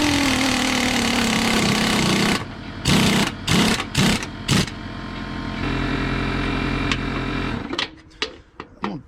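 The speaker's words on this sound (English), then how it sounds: "Double checking these with a ratchet because I don't want to strip them dudes out" A ratchet tightening bolts on a Husqvarna mower deck: a loud steady whirring first, then several sharp, close ratchet bursts in a rough rhythm, another hum, and a last flurry of quick clicks.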